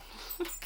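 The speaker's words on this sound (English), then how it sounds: "Sorry, that's my dog." A dog gives a single brief, faint whimper against a quiet indoor room background.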